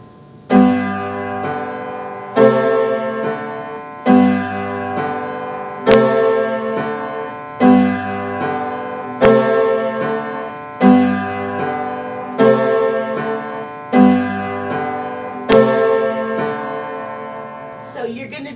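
A piano or keyboard plays repeated two-note chords, G with B then A with C, in a steady rhythm of clear struck attacks that ring and decay, each pair repeated several times.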